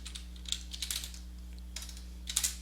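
Quick, light clicks of typing on a computer keyboard come in short irregular bursts, faint and close, over a constant low electrical hum.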